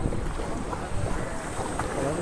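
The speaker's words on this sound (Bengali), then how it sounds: "এই যে ট্রলার, হ্যাঁ হ্যাঁ," Trawler boats moored at a busy fish market jetty in the Sundarbans, with steady water and wind noise rumbling throughout and no clear engine detail rising above the continuous wash.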